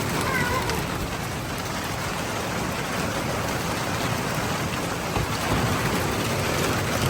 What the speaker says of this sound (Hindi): बड़ी हवा है, हवा के साथ बारिश।